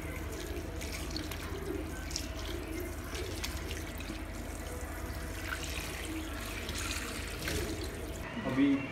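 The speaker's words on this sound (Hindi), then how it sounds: "अब इसको मैं धो दूंगा सभी चीज़ को।" Vegetables being rinsed under a running kitchen tap, a steady splashing water stream that runs throughout at close range, with clattering and handling sounds mixed in.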